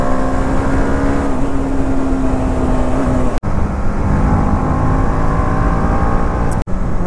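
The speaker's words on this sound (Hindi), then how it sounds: "अभी आप व्हीली एंजॉय करो। ये एक और व्हीली, व्हीली और हाइपर राइडिंग।" A motorcycle, either an Apache RR310 or a Duke 390, revs hard during wheelies and hyper riding, a loud, close, steady engine drone broken by two abrupt momentary cuts.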